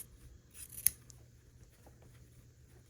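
Scissors trimming quilt fabric: a single short, crisp snip near the middle, close and quiet, with soft rustling around it in a hushed room.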